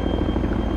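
A helicopter in the military game Arma 3 drones steadily with a low rotor throb, loud and continuous through a short stretch, a faint high whine running above it.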